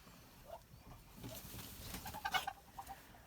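Kholmogory geese, six-month-old young birds raised on water, grass, grain and pumpkin, give a few faint scattered honking calls, a cluster bunching up toward the end against a quiet background.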